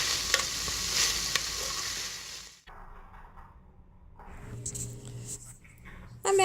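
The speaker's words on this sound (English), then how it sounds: "I'm going to continue to brown up that sausage until it's completely done" Sausage browning in a Ninja Cooking System pot, with steady loud sizzling and stirring scrapes. The sizzle cuts off briefly, then resumes more softly with clinks of the utensil.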